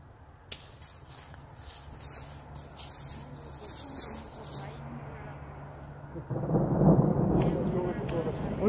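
Thunder rumbles during a storm while trees are being planted outdoors, with sleet and lightning about. A low, distant roll builds steadily and swells louder toward the end, with footsteps and shuffling nearby.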